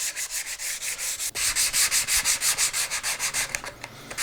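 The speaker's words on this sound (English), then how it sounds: "I'm going to use a flat sanding block like I'm using right here." Rhythmic back-and-forth scraping of sandpaper on a flat sanding block over a wooden guitar neck and body, steady regular strokes close up, with no talking.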